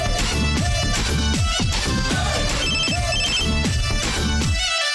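A telephone rings during a TV serial scene, a loud repeating electronic ringtone melody that pulses in regular cycles and cuts off at the end, with no talking.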